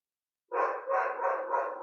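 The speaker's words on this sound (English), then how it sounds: "When you hear a dog barking, it's triggering." A dog's bark starts abruptly out of silence and carries on as a sustained, fairly loud, close run of barking.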